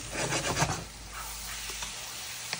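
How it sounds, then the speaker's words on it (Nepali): Chicken gizzards and liver sizzle and crackle in a hot wok, busier at first with stirring scrapes, then settling into a quieter, steady fry. "मजाले पट पट पट पट पट पट भुट्यो"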